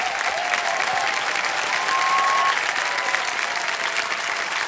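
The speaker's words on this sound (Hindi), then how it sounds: "जोरदार तालियां रजनी जी के लिए।" A studio audience at a KBC quiz show applauds contestant Rajni, a steady sustained wash of clapping from many hands that holds for several seconds.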